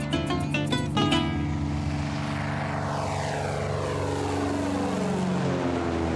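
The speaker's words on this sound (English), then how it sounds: "We're flying just a meter above the ground" A crop-dusting propeller airplane roars low over Amazon fields in Colombia, a loud steady engine drone with a pitch that sweeps down as it passes close overhead.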